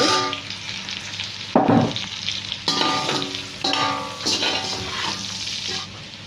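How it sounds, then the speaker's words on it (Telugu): Ginger paste fries in a pan for an egg curry, a loud, steady sizzle broken by scraping stirs and the clatter of a spoon against metal, with no voices. "ఇప్పుడు అల్లం పేస్ట్ వేస్తున్నాను ఒక స్పూన్"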